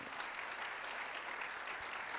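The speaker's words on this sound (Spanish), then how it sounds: "Dale ese aplauso al Señor fuerte." A church congregation applauding, a dense, continuous wash of many hands clapping at a steady level, heard from within the room with no break.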